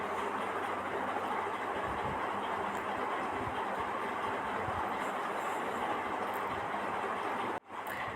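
A train at a platform of Ganganagar railway station gives off a steady, loud rumble of rolling rail noise that runs unbroken, then cuts off sharply near the end.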